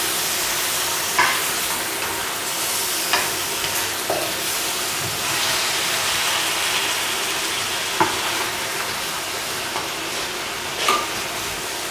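Chinese brown sugar melts and sizzles in a pot with oxtail and lamb for a Cantonese stew, giving a loud, steady frying hiss broken by occasional clicks and stirring knocks.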